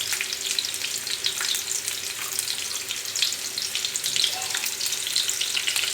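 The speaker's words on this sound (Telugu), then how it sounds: "ఉల్లిపాయలు వేస్తున్నాను" Onions frying in oil for godumaravva upma make a loud, dense, continuous sizzle with crackling spits and soft stirring scrapes, close up, with no talking.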